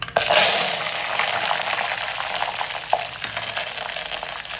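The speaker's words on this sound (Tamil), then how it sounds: "கடுகு போட்டுக்கிறேன். கறிவேப்பிலையை போட்டுக்கிறேன்." Mustard seeds and curry leaves hit hot oil for a fish kuzhambu, setting off a loud, dense sizzle and crackle that fades only slightly, with a few sharp pops along the way.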